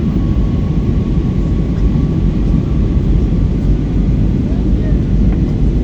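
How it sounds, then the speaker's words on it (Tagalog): An airplane descending to land gives a steady, loud engine and airflow roar inside the cabin, constant throughout, with a faint voice speaking over it. "malapit na kami lumapag ayun na po oh"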